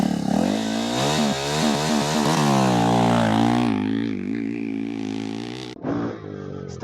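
A KTM 390 Adventure R single-cylinder motorcycle pulls away from a start in second gear, its engine note climbing loud and close through rising revs, dipping briefly at a shift, then surging again near the end.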